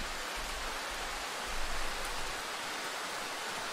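Steady rain in the video game Darkwood, a continuous broadband hiss of falling water with no distinct drops, even and unbroken with no voices.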